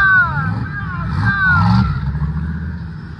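A Chevy donk car engine revs loudly nearby at a car show, rising and falling, with voices and crowd noise mixed over it.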